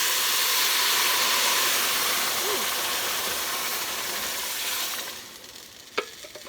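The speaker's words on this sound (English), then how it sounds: "we're going to add to this 4 cups of the chicken broth" Chicken broth poured into a hot pan of Mexican rice, a loud broad hissing sizzle that gradually fades as the liquid settles, ending with a single sharp knock.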